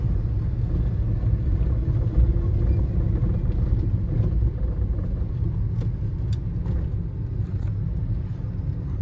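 Steady low rumble from a car on a test drive, heard from inside as a continuous, fairly loud road and engine drone with no talking.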